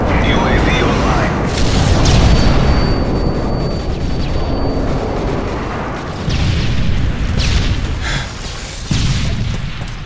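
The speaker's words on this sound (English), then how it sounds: "Friendly airstrike on the way." Heavy airstrike explosions from the Call of Duty Modern Warfare 3 multiplayer Team Deathmatch game, a loud continuous rumble of booming blasts and scattered gunfire rolling through the whole stretch, with short bursts rising and falling.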